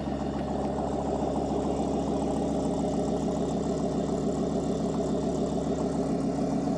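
An original Dodge T-Rex 6x6 competition truck sits running, its engine holding a steady, throbbing idle with a deep pulsing rumble, close and continuous, with no voices over it.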